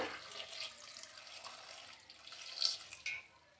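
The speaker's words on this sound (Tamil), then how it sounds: "இப்போ இதோட தேவையான அளவு தண்ணி சேர்த்துக்கோங்க." Water poured into a pot of dal for cooking paruppu kadayal, a soft, close trickle and splash running for a few seconds in a quiet kitchen, with a couple of brighter splashes near the end.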